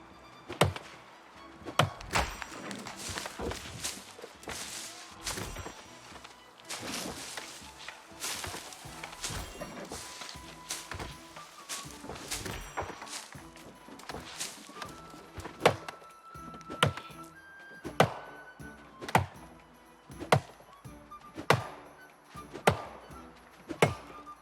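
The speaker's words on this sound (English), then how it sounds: "Tree cutting sound is quite loud" Tree being chopped in the online game New World: a run of loud, sharp woody thunks at an irregular pace, closer together near the end, with a low game ambience underneath and no talking.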